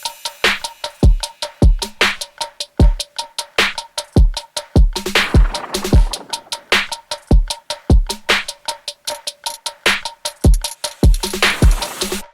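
Dry drum loop routed straight to the master bus in a mix session without aux processing, a steady repeating groove of deep kicks, crisp snare hits and ticking hi-hats, loud and upfront, no talking.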